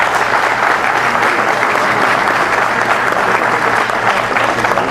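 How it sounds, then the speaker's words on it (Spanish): A loud, sustained round of applause fills a hall at a forum on education law reforms, with many hands clapping densely and evenly throughout and no break. "pido un fuerte aplauso"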